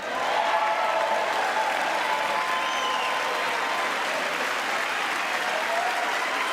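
Dense audience applause and cheering fills a large chamber at the 2024 State of the Union address, a loud, steady roar of clapping and crowd noise that holds without pause throughout.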